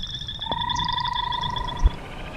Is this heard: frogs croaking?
yes